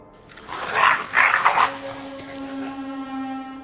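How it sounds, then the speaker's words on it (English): A dog barks a few times late at night outdoors near a deer, moderately loud, a short burst followed by a lingering engine-like hum. "Nearby, a dog remains alert."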